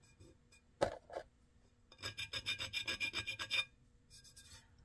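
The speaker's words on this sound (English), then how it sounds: "I love these little sanding tools." Small sanding tool rubbing a ceramic plate being painted with underglaze, a few scattered scrapes followed by a rapid rhythmic series of rasping strokes, quiet and close.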